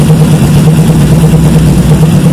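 A Suzuki GS 500 street tracker motorcycle engine idles steadily at close range, a loud, even low rumble with no revving.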